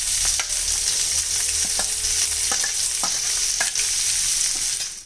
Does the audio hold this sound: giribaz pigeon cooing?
no